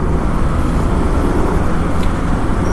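Yamaha Aerox 155 scooter on the move, a steady, low road and wind rumble with only a soft engine hum, continuous and close without any breaks.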